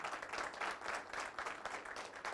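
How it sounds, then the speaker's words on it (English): An audience gives a round of applause, clapping briskly and evenly in a fairly quiet, distant wash of many hands. "So big round of applause for Ravi"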